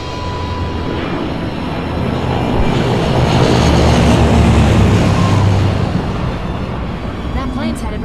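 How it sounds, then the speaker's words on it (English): Propeller plane, a C-130, flying overhead in the Xbox 360 game Left 4 Dead, a steady engine drone that swells louder toward the middle and eases off, with a constant broadband rumble throughout. "That plane's headed right for the airport."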